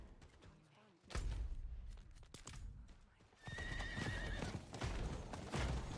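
A horse in a barbarian action game gives a close, bright whinny partway through, with heavy hoof thuds and clip-clop steps before and after it.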